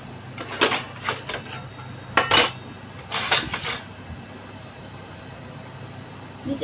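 A metal spoon clinks and clatters against dishes in a home kitchen, with several short, sharp bursts of contact spread unevenly over a few seconds at close range, no talking.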